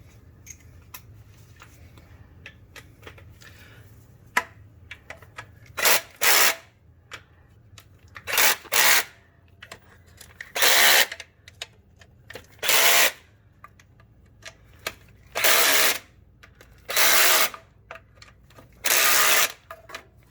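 A power drill runs transmission pan bolts into a Hummer H2, close and loud, in about eight short whirring bursts of one to two seconds each separated by quiet pauses.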